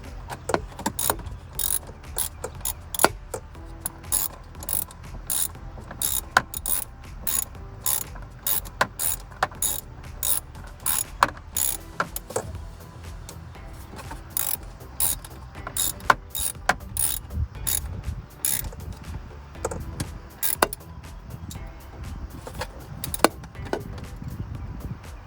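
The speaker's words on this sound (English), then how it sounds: "So I'm going to use my socket to go ahead and secure that down." A hand socket ratchet clicks in rapid bursts while tightening a bolt on a J&L oil separator on a RAM 1500 3.0 diesel, with repeated runs of sharp close clicks separated by short pauses and no speech.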